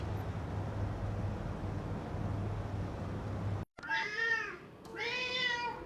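A steady low rumble of background noise cuts out, then a cat gives two drawn-out meows close by.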